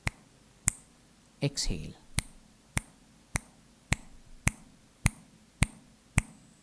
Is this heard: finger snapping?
yes